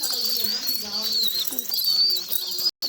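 Soft pigeon cooing over a dense, noisy background with a steady high-pitched hiss and some muffled voices nearby.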